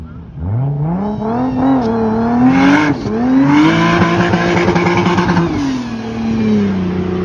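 A Jeep Wrangler engine revs hard through a mutated aftermarket exhaust, its loud, rising and falling growl sweeping up and holding high, close and continuous throughout with no talking.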